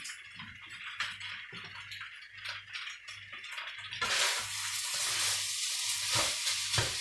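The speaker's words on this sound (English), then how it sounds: "So I'll crack one egg in there." Soft sizzling from a pan of Indonesian fried rice with prawns and shallots, with an egg cracked in; a quiet crackle with light rhythmic ticks and stirring, then the sizzle suddenly brightens and grows louder, steady with no talking.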